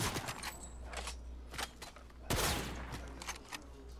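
Gunfire from a Fortnite match: several sharp shots and short bursts spaced across a few seconds, with one heavier blast near the middle, all over a steady low game hum.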